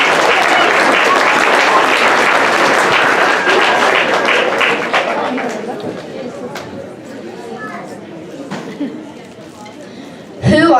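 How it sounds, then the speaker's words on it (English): Audience applause after a seventh-grade student's presentation on Italy, a loud dense clapping that fills most of the clip and gradually thins out, with some chatter mixed in. "Let's give her a big round of applause"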